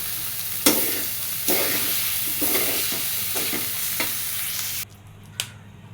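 Onions dropped into hot oil in a pan for a potato and drumstick curry: a steady broadband sizzle broken by a few sharp clicks of stirring, close by, and fading abruptly near the end.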